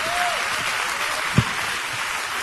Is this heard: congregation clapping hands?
yes